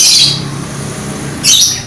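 Lovebirds in a flock of about nine give two loud, shrill squawking bursts close by, separated by a quieter stretch of faint chirping.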